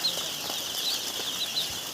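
Day-old broiler chicks in a straw-bedded brooding shed make a faint, constant background of soft rustling, fluttering and light patter, with small high chirps surfacing now and then.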